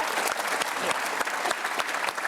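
Sustained audience clapping at an evening charity talk event, a crowd applauding two people on stage, including a five-year-old, dense and steady, fairly close.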